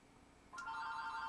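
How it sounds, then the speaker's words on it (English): A telephone starts ringing midway, a steady electronic bell tone that switches on abruptly after near silence and carries on fairly loud to the end. "that's the phone."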